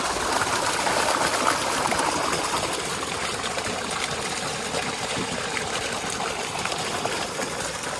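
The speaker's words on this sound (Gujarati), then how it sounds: "તો પાણી પડે." Irrigation water pours into a farm field as a constant, even rush of flowing water that stays close and loud throughout, with no voices.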